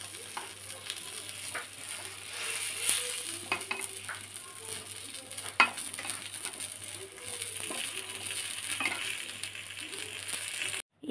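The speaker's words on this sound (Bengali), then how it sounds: "ভেজে নি, অল্প তেলেই তো করছি।" Eggplant slices fry in a small amount of oil, producing a soft, steady hiss and light crackle with occasional clinks and scrapes of a spatula, fairly quiet and close, with no speech.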